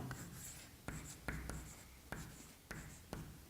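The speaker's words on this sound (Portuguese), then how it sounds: "Vamos escrever assim, pessoal." Chalk or marker writing on a classroom board during a Portuguese grammar lesson, with short scratchy strokes and several sharp taps as words are written, no talking over it.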